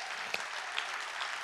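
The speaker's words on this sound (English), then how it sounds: "Give the Lord a hand clap right now." A church congregation claps for the Lord, a dense, steady wash of hand clapping with a few sharper claps standing out, fairly faint and without talk.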